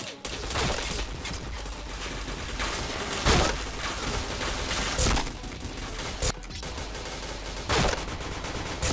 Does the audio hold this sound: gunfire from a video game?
yes